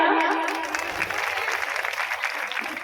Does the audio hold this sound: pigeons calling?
no